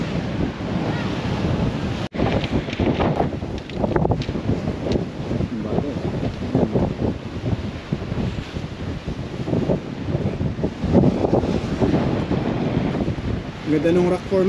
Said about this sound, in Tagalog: Lakas ng hangin ngayon, hindi kami makapagpalipad.